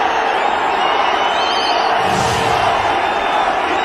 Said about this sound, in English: Much to the delight of the crowd here. And massive cheer.